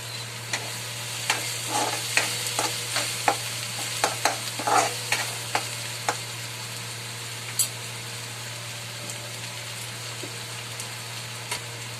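Chopped tomatoes sizzle and fry in a pan while making a bhaji, with a steady crackling hiss and intermittent stirring clicks throughout, fairly close and without talk.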